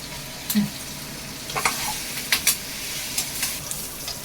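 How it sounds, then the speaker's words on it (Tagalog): Pork adobo sizzles steadily in a hot pan, with sharp pops and crackles bursting out every second or so, close by. "naputok-putok na ang ating adobo sa asin"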